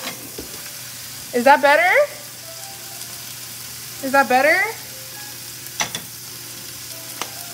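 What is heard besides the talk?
food sizzling while frying in pan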